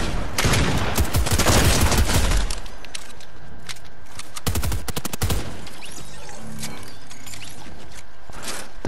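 Bursts of rapid gunfire in Fortnite, a dense rattling volley for about two and a half seconds, then a second shorter burst, with quieter mechanical clicking and ambient game noise between, no talking.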